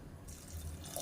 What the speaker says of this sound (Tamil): நான் வந்து சுடு தண்ணி தான் சேர்க்குறேன்.